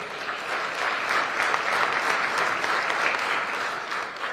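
Supporters at an election-night gathering for governor-elect Joe Lombardo clap for the finance chair, a continuous, evenly loud crowd applause with no pause or voice over it.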